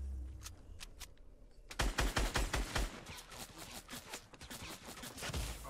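Video game gunfire in a battle-royale match, a rapid close burst of shots followed by further scattered firing and game noise, with no talk during it.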